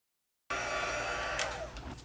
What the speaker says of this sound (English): So for heat embossing, this is the heat tool, and this is from Stampin' Up, and it gets really, really hot.